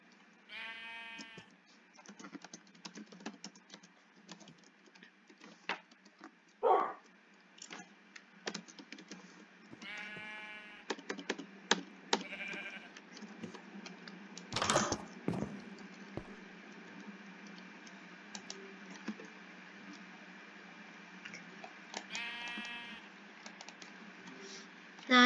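Sheep bleat repeatedly in the video game Minecraft, several short wavering cries spread out over soft keyboard clicking, with one brief loud burst near the middle.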